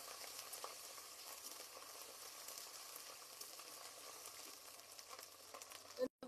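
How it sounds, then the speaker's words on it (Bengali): Dal frying with raw turmeric paste in a pan, a steady close sizzle with soft stirring scrapes running throughout, ending in a brief knock. "আর দিয়ে দিচ্ছি কাঁচা হলুদ বাটা। ভালো করে নাড়িয়ে কষে নিচ্ছি।"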